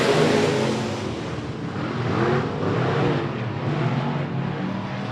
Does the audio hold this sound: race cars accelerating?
yes